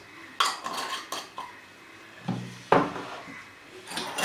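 Aloe vera gel being mixed into hand sanitizer in a bowl, with irregular clinks and scrapes of a utensil against the bowl and a couple of louder knocks, no voices.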